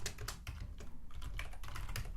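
Quick, close keystrokes on a computer keyboard as code is typed, a fast irregular clatter of soft clicks that runs for a couple of seconds with no talk.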